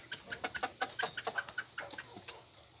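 Young chickens cluck and chirp in a quick, uneven series of short calls close by, unsettled at the sight of rabbits, a white doe and a big buck, in a backyard hutch setting, with no talk over them.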